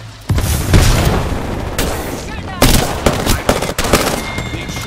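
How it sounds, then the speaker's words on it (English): Grenade blast in the Apex Legends battle royale game, a loud booming explosion followed by heavy bursts of gunfire and further impacts over several seconds, dense and close. "He threw a grenade."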